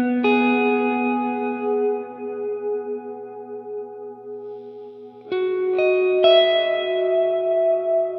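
Sustained electric guitar chords through a Strymon-style reverb on a Line 6 HX Stomp ring out and decay with a long, washy reverb tail, then new chords are struck and swell again.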